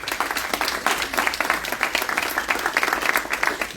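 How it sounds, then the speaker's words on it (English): Warm audience applause at a school board candidate forum, dense clapping from a seated crowd that carries evenly throughout at moderate loudness. "Let's give them a warm round of applause."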